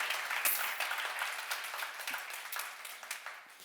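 Congregation at a church seminar clapping briefly in a fairly faint, dense patter of many hands that gradually thins out.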